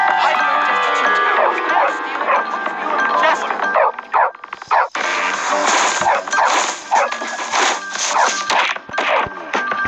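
Dog in the video game Bully barking and whimpering, short yips and whines over a tonal music bed, with a voice speaking at moments.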